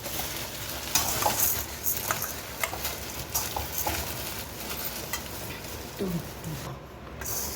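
Areca nut pieces, fennel seeds, diamond rock sugar and watermelon seeds being mixed together by hand: dry, gritty rustling and shuffling of small pieces, close by, in soft uneven bursts.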